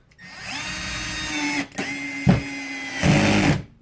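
A 12V single-speed cordless screwdriver drives screws, its motor whirring loudly in close bursts with short pauses and changes in pitch as each screw seats.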